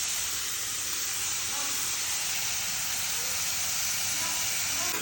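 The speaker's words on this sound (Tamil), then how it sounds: "ஆனியன் போட்டு சால்ட் போட்டுக்கலாம்." Onion and salt fry in oil in a pan, giving a loud, even, continuous sizzling hiss that holds steady without a break.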